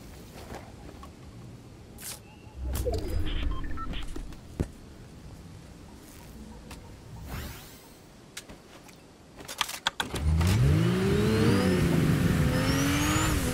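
A car in the Fortnite video game drives off loudly near the end, its engine rising and falling in pitch with a revving tone, after quieter stretches of scattered game noise and brief clicks.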